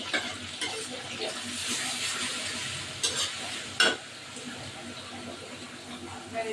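Onion paste fries with fried onions in a pan, a steady close sizzle under quiet stirring, with a few sharper clatters near the middle.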